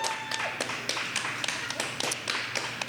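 Audience in a cooperative cafe and bookstore gives a brisk round of applause, close, uneven claps and taps rising and falling over a steady room hum.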